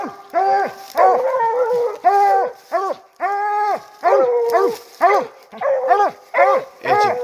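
A 10-month-old dog called Blue Dog gives a loud, close run of eager barks and yips in quick bursts, some drawn out into whining howls.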